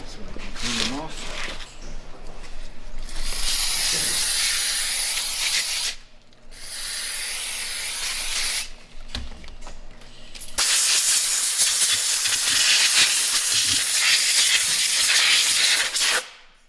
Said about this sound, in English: You don't need to use a ton of brake clean. Just spray a little and get it wet.